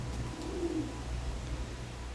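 Pigeons in a loft coo once, soft and low, over a steady low hum, with no one talking.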